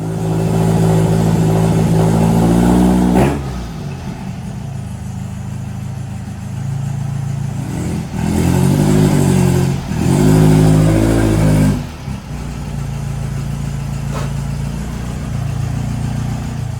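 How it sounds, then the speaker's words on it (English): A car climbing onto ramp blocks in a garage, engine idling loud and close, with several throttle rises and revs as it creeps up, then dropping back to a steady idle; no talking. "let's start off by getting the car driven up onto these blocks"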